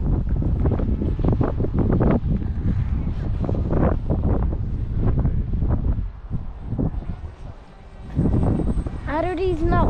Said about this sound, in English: the wind started actually getting really strong